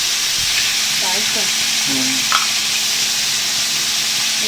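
Chicken curry with turmeric and spices sizzles and fries in a pan, a constant loud hissing crackle with a few faint stirring scrapes, no voices.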